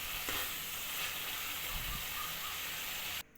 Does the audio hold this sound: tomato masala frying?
yes